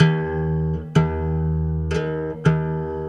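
Fretless three-string cigar box slide guitar sounding sustained, steady tuned notes, with a few plucked re-attacks spaced through the phrase, played alone and close.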